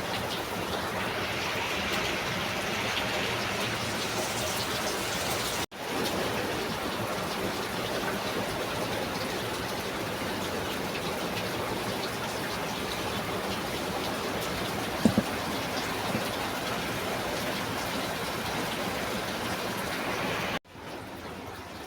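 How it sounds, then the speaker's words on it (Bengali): Heavy rain falling, a dense, loud, continuous hiss of downpour with no breaks apart from two abrupt cuts, and no voices. "প্রচুর পরিমাণে বৃষ্টি হচ্ছে"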